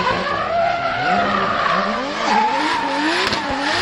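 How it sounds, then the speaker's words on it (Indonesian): A toy Formula One-style racing car drifts, giving a sustained wavering tire squeal that bends up and down in pitch, loud and close, with no talk over it. "sedang melakukan drift ya"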